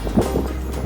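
Wind buffets a microphone outdoors during a yard leaf clean-up, a steady low rumbling roar that fills the whole short moment without a break.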